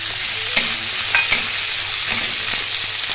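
Fried vegetables and peas are stirred in a wok, a steady close sizzle with occasional sharp scrapes and taps of a spatula against the metal.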